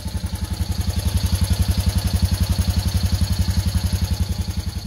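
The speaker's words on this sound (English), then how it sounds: "Let's listen to the exhaust." A BMW Isetta bubble car's small engine idling steadily with a rapid, even exhaust putter, close and fairly loud, no voices.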